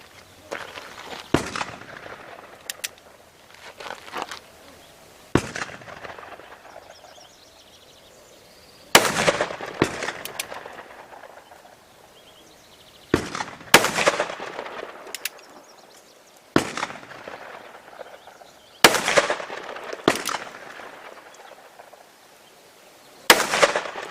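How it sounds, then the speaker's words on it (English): A powerful gun fires a series of sharp, loud shots at irregular intervals, each crack followed by a short decaying echo, with quiet gaps between them. "As you can see, obviously a much more powerful gun"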